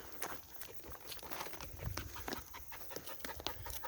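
A dog panting and stepping about on a very steep hillside slope, close by, with quick breaths and scattered footfalls over outdoor rustle.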